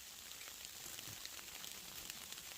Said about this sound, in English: It is definitely starting to rain and snow again